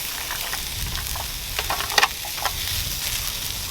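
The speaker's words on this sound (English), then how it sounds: "I always try to cook the onions in the hottest spot over here and the steaks here first" Onions and steak fry on a griddle over an open fire, a steady close sizzle and hiss with a few sharp pops and crackles spread through it, no voices.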